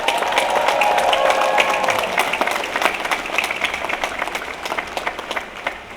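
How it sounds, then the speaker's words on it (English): A crowd at a university graduation ceremony applauds faculty and staff, dense steady clapping that fills the hall, then thins into scattered individual claps as it fades. "And I'd like you to please join me in giving one more round of applause"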